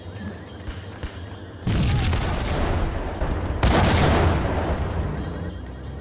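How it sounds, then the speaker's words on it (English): A grenade and an explosive barrel go off in the video game Max Payne as two heavy, booming blasts about two seconds apart, each followed by a long roaring tail, with no talking. "the combination of the grenade and explosive barrel, BB killed himself and I didn't have to fire a shot"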